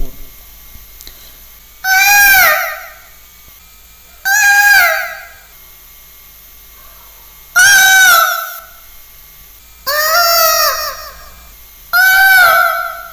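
A voice imitates a peacock's call, giving five loud, rising wailing cries spaced a couple of seconds apart, each one sharp and harmonic-rich and ringing close against a quiet background.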